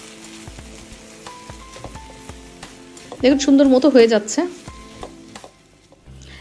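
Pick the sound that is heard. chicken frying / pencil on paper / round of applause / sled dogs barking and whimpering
chicken frying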